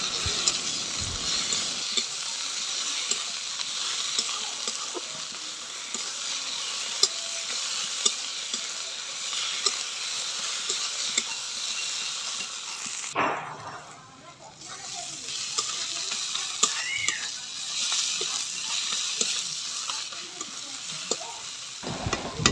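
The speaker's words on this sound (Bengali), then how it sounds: "এবার আদা রসুনটাও একসঙ্গে ভালোভাবে ভেজে নেবো" Ginger and garlic paste fry with onions in a pan for a Jamai Shashthi mutton curry: a close, constant sizzle with repeated scraping stirs, briefly dipping quieter midway, and a voice speaking now and then.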